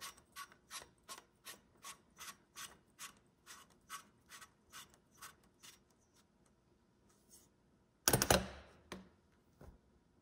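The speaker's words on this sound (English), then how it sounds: "Tighten the buffer tube the rest of the way." A rifle buffer tube being tightened by hand on a lower receiver, with a steady run of about fifteen evenly spaced ratcheting clicks followed by a short louder metallic scrape.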